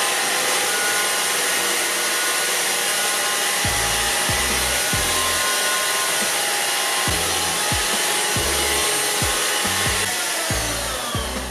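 Loud, steady high-pitched whine of an Easine F100 vacuum cleaner running close by, sucking up ketchup, with intermittent low thumps and rubbing as it works over the spill.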